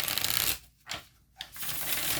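Slippery tarot cards are riffled and shuffled on a desk in two or three quick, crisp bursts of papery flutter, close up and separated by brief pauses.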